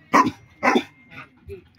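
A dog barks four times in short, close, sharp yaps, the first two loud and the last two softer, with quiet pauses between them.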